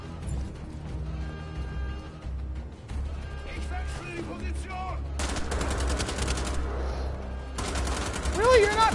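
Fully automatic gunfire from the Wolfenstein: The Old Blood video game rattles in dense bursts over game music and effects, louder toward the end, with someone talking over the action.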